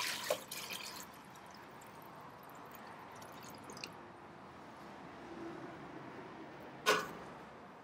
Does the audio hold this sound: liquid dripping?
yes